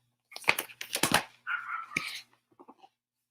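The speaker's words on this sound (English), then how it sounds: "a little Chihuahua barked" A small Chihuahua barks in a short run of sharp, close yips and barks, followed by a few faint softer yaps before silence.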